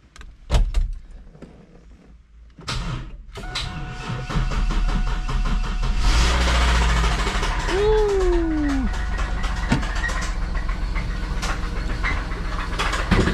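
A 1999 Camaro engine cranks and starts, then runs roughly with a steady rattling knock; a door and other clunks come before it turns over.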